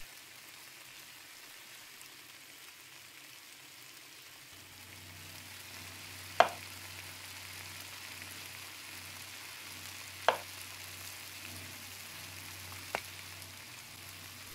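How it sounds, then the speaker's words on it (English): Armadillo slowly grilling in the video game Cooking Simulator, a steady soft sizzle with a low hum underneath and a few sharp clicks, alone with no talk. "put this here, and it's 3 minutes. So let it slowly grill."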